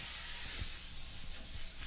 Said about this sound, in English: We're going to also spray our pan.